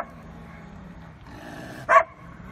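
A single loud, close bark from a dog guarding an industrial zone on the outskirts of Moldova's capital, rising abruptly out of quiet background rumble, with fainter low growl-like sounds before it.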